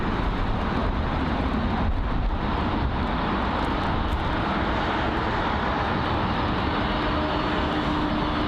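Steady, loud roar of a British Airways Airbus A320-200 arriving to land at London Heathrow, a continuous broadband rumble and hiss holding throughout with a faint whine rising near the end.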